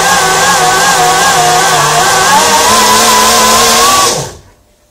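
An electric bike hub motor spinning the back wheel under light load, a loud steady whine with rising and falling tones for about four seconds before it spins down and cuts off.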